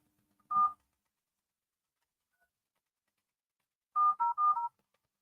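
Telephone number dialed as DTMF keypad tones: one short tone, a long pause, then a quick run of four tones, loud and clear with no talking.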